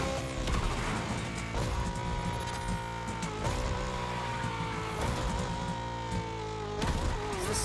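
A muscle-car style engine in a racing video game fitted with an engine swap kit, gearing down with repeated revving surges and drops, loud and continuous with no talking.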